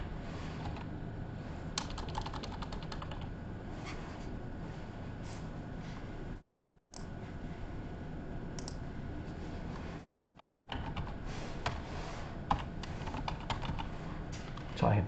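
A website address being typed on a computer keyboard comes through as rapid, uneven key clicks at close range, in bursts separated by two brief silent gaps.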